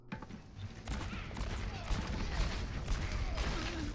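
McCree's revolver fires in Overwatch as rapid crackling shots amid dense gameplay noise, fairly faint and continuous over about four seconds.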